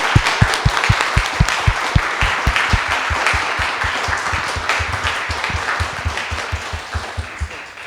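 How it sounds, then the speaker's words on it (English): A seated audience gives a group a round of applause, loud and steady for the full stretch, with a strong regular clapping beat running through the dense patter. "Please give this group a round of applause"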